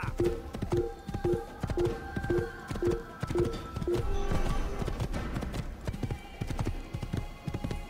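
Horse galloping in the Assassin's Creed video game: a steady, rapid run of hoofbeats in the foreground for the first few seconds, then a busier stretch of game sound with the hooves continuing under it.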